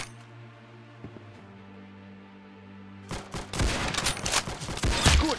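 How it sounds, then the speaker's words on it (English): Gunfire in a Roblox Arsenal match where a Springfield rifle is used: a quiet stretch, then a dense burst of loud, overlapping shots and impacts crackling for about two seconds. "let's see if we can get the shot with the Springfield rifle through the crack here"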